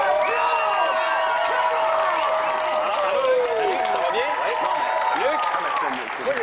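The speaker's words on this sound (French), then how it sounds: "C'est vrai qu'on les applaudisse violemment." A studio audience at a French-language game show applauds loudly and continuously, dense clapping with cheering voices mixed in, fading slightly at the end.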